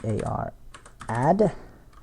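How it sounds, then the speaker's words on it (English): Short bursts of computer-keyboard key clicks as a console command is typed for Wolfenstein: The New Order, falling in pauses between a man's speech, close and moderately loud. "if we go into the console and we type in cvaradd"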